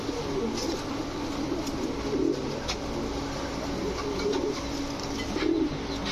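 Rajshahi Giribaz pigeons, a mated pair, coo softly in low, rounded bursts over a constant background hum, with no voices.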